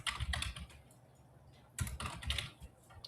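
Two quick bursts of typing on a computer keyboard, with close, crisp key clicks separated by a brief pause.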